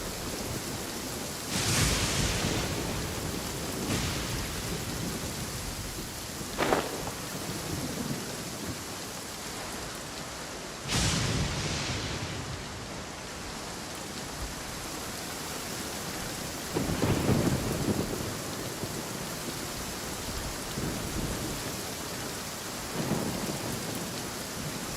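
Steady rain falls in a Genshin Impact storm while several thunder cracks burst out and rumble away at irregular intervals, the loudest two arriving early and around the middle.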